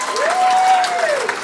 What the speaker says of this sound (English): Round of applause if you have kids.